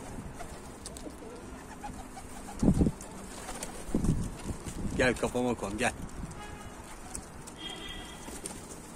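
Pigeons cooing outdoors in a birding setting, with a few low soft coos and short calls rising over background noise while someone speaks nearby.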